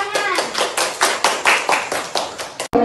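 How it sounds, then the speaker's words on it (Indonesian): A classroom of children clapping in applause, a dense burst of many hands with rhythmic surges, close and loud, cutting off abruptly near the end. "Ya, tepuk tangan."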